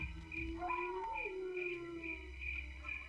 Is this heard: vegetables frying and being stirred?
no